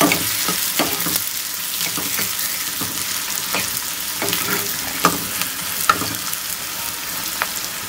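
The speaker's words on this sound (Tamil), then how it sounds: "இது நல்லா ப்ரௌன் ஆகட்டும்" Onions fry until brown in a pan for paruppu kulambu, making a steady close sizzle broken by frequent stirring scrapes and clicks of the utensil against the pan, with no voices.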